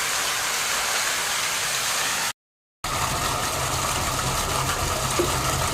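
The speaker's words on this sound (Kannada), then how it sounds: "ಇವಾಗ ಪಂಪ್ ರನ್ ಮಾಡಿ ನೀರು ತುಂಬಿಸ್ತಾ ಇದ್ದದು" A water pump runs steadily, filling a sump tank with a constant rushing, hissing flow and motor drone, broken by one brief cut before the same even sound resumes.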